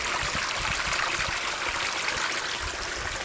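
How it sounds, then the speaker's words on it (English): Water spills over rocks into pools in a permaculture water garden, making a constant rushing, bubbling stream sound that stays steady and fairly loud throughout without any voices. "you can see down there where the water has kind of fallen down over the rocks"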